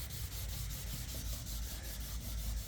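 Steady close rubbing and scraping of fine-grit sandpaper wet-sanding the paint on a 1963 Buick Riviera, a continuous rhythmic swish with no talk.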